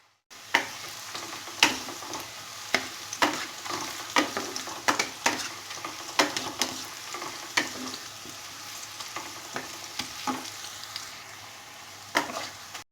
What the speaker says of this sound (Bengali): হিট কমিয়ে রেখে পেঁয়াজটা হালকা গোল্ডেন ব্রাউন কালার আসা পর্যন্ত আমি ফ্রাই করে নেব